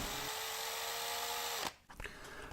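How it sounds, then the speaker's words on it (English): A power drill run in reverse with a screw extractor bit whines steadily and close up for about a second and a half, then winds down, with brief scraping and handling noises after it stops. "make sure that the drill is in reverse"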